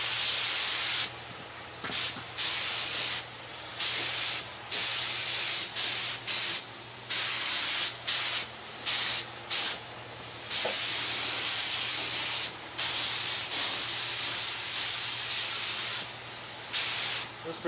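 A paint spray gun lays a light tack coat on a 1970s Pontiac Trans Am, hissing loudly in repeated close bursts of one to three seconds separated by short pauses.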